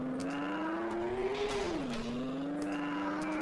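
A car's engine in the Earn to Die video game revving and accelerating, a steady droning whine that rises in pitch, dips briefly and climbs again, continuous and close with no speech over it.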